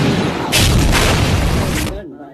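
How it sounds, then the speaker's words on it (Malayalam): Firecrackers burst in a couple of loud, booming cracks over a dense background din, with voices mixed in. "എന്തിനാ ആളുകൾ പടക്കം പൊട്ടിച്ചേ?"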